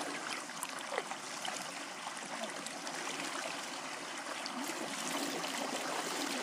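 Water swirls and rushes through a culvert, forming small funnels, a steady, faint hiss and gurgle that continues unbroken with no voices.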